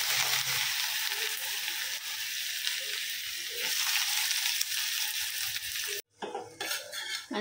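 Chopped onion hits hot oil with mustard seeds for a village-style pithla, giving a loud, dense sizzle for about six seconds before it drops away to quieter spoon-stirring and pan clatter.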